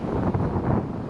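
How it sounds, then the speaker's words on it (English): Wind gusts across a microphone outdoors beside an open beehive being inspected in February, a loud, steady, close rumbling buffet filling the short moment, with no talk. "Got a little wind coming through."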